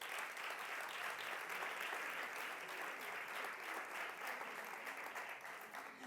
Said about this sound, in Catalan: Un aplaudiment per elles